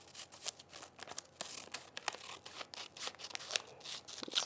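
Scissors snip through fabric while trimming pieces for machine embroidery applique, a series of quiet, close, crisp cuts in an irregular rhythm with faint rustling of material.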